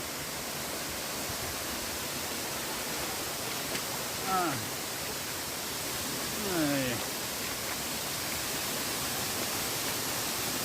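A waterfall roars as steady, broadband rushing water, close and constant throughout, with a couple of brief whistling or chirping sounds rising above it partway through.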